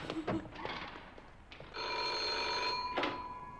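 Telephone bell ringing in the 1975 Inspecteur Derrick crime drama: a few faint sounds first, then a loud, close, continuous bright trill for the second half, with no talk.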